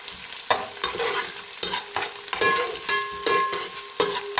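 Browning onions with garlic and ginger frying in a pan, a loud, continuous sizzle broken by repeated scraping stirs roughly every half second, close up with no talking.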